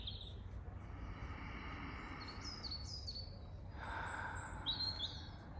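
Small birds chirping outdoors, a few short high tweets scattered over a low steady background rumble, faint and somewhat distant with no voices.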